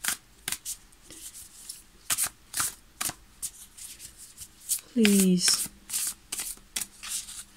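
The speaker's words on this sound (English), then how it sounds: "Let's shuffle a little." Tarot cards being shuffled in repeated papery riffles and rubs, close and fairly loud, with a brief spoken word and a short tonal sound partway through.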